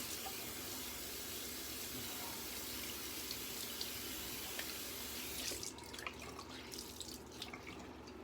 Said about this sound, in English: You get some nice ice cold water going.